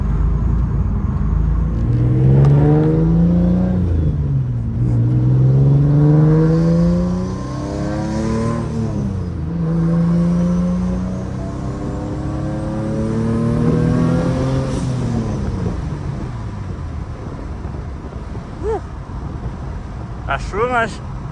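A turbocharged Nissan 350Z engine accelerating hard under boost, rising and falling in repeated pulls with strong harmonic sweeps, loud and close from inside the car, with a person talking over it.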